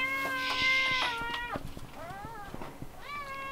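A cat meows several times close by indoors, a run of drawn-out, rising and falling cries with short pauses between them, fairly quiet with no talking over it.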